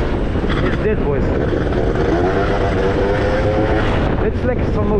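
A Piaggio Zip 172cc scooter engine hums under heavy, roaring wind rush while riding between Den Haag and Rotterdam, with a faint, continuous buzz.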